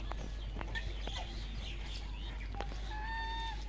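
White domestic geese give a few honking calls near the end, with scattered clucks and clicks before them over a low steady hum; moderately close and fairly faint.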